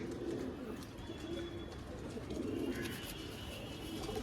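Quality breeding pigeons coo in soft, repeated low phrases close at hand, with a faint high chirp and steady room noise underneath; no talking.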